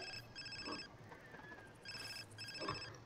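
A telephone rings in The Sims 4, two bursts of a bright electronic trill separated by a pause, clear and fairly close over a faint background.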